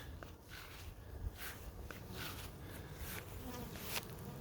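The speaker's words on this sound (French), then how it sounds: "Je vais vous montrer les abeilles." Steady insect buzzing hums throughout, with bees droning close by around monarda flowers in a garden and occasional brief rustles mixed in, no voices.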